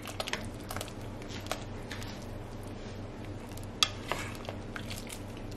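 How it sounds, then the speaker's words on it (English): A pot of keto Zuppa Toscana soup being stirred, with faint, scattered clinks and soft scrapes of a utensil against the pot over a steady low kitchen hum, and no talking. "I'm going to go ahead and stir that up"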